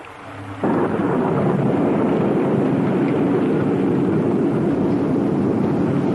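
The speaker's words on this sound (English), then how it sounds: "It sounded like thunder." A deep, sustained rumble of thunder rolls in suddenly and continues loudly, with a rain-like wash layered over it.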